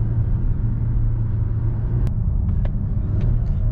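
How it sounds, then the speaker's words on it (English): A 2021 Volvo S90 engine droning steadily with the accelerator floored, a loud continuous low rumble from inside the car that holds without a clear rise, with a few faint clicks over it. "there's just something about pushing the accelerator all the way down and it not going anywhere"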